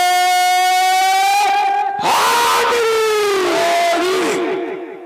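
A large crowd at a religious gathering chanting a slogan in unison, a long sustained call followed by a loud, echoing collective response that fades toward the end.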